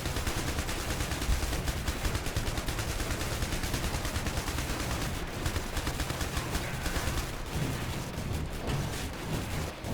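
Rapid sustained gunfire in the IS Defense video game, dense automatic bursts and overlapping shots forming a constant loud clatter for the whole stretch, with no talking.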